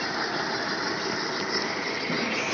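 A tractor engine idles at very low revs, giving a steady, close, continuous rumbling drone with no voices.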